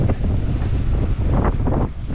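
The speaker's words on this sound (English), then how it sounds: "Look at these waves out here. They are crashing like crazy" Rough, surging roar of high surf crashing on a Gulf of Mexico beach at Pensacola, with repeated swells of noise buffeted by heavy wind against the microphone.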